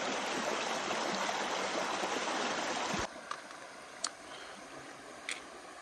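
Stream water running at a trail crossing, a steady loud rush of flow that drops abruptly to a quieter trickle partway through, with a few faint ticks and splashes afterward.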